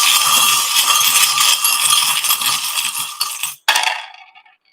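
Small charms cast onto a surface give a bright, jangling clatter of clinks and rattles that runs steadily, then a final sharp scatter settles quickly into silence.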